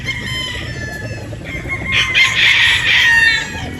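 A Boston Roundhead broodstag rooster at a game farm clucks softly, then lets out a loud, close crow lasting about a second and a half over a low background hum.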